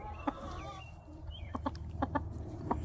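Chickens in a coop giving several short clucks scattered over low background noise, fairly faint and close, with one higher drawn-out call early on.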